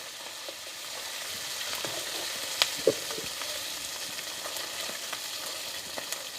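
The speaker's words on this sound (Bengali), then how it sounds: "তেল গরম হয়ে গেছে, এবারে মাছের মাথা দেওয়া হচ্ছে এর ভিতরে।" Fish head frying in hot oil over a clay stove, a continuous close sizzle with a few sharp pops and spatters, no one speaking.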